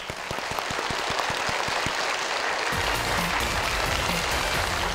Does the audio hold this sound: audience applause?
yes